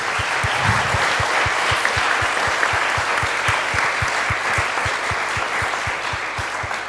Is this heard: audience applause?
yes